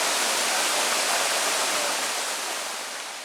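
Waterfall at Blowing Rock, a dense continuous roar of falling water close by, steady and loud, easing slightly toward the end.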